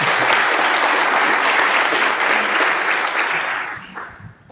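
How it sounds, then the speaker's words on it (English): A symposium audience breaks into loud, sustained applause, thick continuous clapping that holds steady before thinning and fading out near the end. "Let's give them a round of applause."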